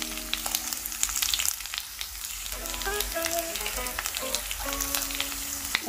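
Ginger frying in a pan with garlic for Indian-style masala pasta, a steady close sizzle with crackling pops and scattered brief clinks of a utensil, no talking.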